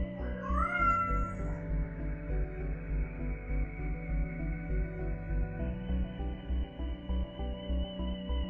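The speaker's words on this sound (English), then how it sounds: "And with me as always is Vega the cat." A cat meows loudly near the start, then a steady bed of layered music with a pulsing beat carries on to the end with no further cat sounds.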